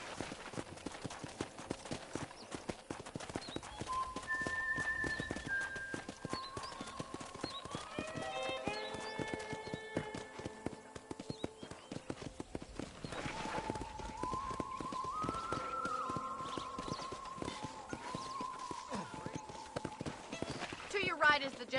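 Steady clip-clop of a horse's hooves while riding in the video game Red Dead Redemption, rhythmic and close throughout, with gentle in-game music tones drifting over it and speech occurring alongside.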